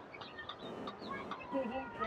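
Young chicks bought from the Terai make faint, high chirps scattered over a soft background, with a voice talking nearby.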